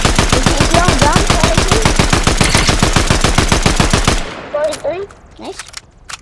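Rapid automatic gunfire rattles loud and close in a shooter video game, about four seconds of evenly spaced shots that stop suddenly. A few scattered pops and a short voice follow.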